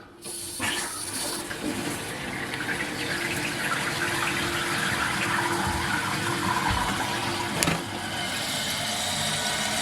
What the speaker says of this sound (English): now you're going to see the water flowing